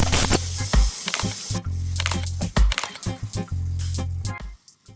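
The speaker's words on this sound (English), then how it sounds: "Final rinsing now and get ready for seasoning." Turkey meat, skin left on, being rinsed under running water in a kitchen, a close, loud splashing gush that starts and stops in several bursts over a few seconds.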